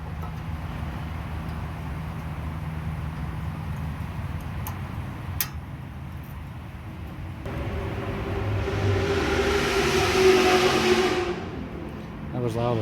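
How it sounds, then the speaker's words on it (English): Race cars at a nearby racetrack roar past during a night race, a distant rumble swelling to a loud sweeping pass around the middle and then fading, with faint ticking in the background. "I love living next to a racetrack."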